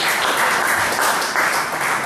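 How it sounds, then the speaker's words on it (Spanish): A church congregation bursts into loud, dense, sustained clapping during a worship service, continuous through the whole short stretch. "Un aplauso a Dios que se lo acuerde de esta hora."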